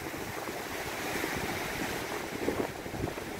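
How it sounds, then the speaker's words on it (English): Strong wind roars steadily into the microphone at a campground in Ontonagon, Michigan, a continuous broadband rush with gusty low rumbles and no voices. "It is so windy,"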